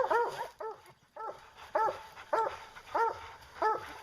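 Dogs give a steady series of short, evenly spaced barks and yips, about seven close sharp calls with brief pauses between them, with a faint whimpering edge and no talking.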